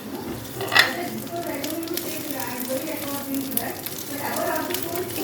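Cubed onions hit hot oil that already holds browned garlic, giving a moderate sizzle with scraping stirs and a sharp clatter near the start, while a person talks over the frying.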